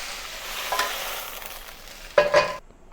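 Beef frying in a cast iron wok for beef hor fun, a steady close sizzle with scraping stirs and a louder burst near the end before it cuts off, no talking.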